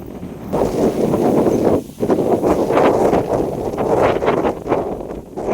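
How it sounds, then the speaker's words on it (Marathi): Wind blows steadily across the microphone in gusty, rushing bursts at a Konkan village farm, with a brief dip in the middle before the blustery noise returns. "वाटतं ना वारा किती"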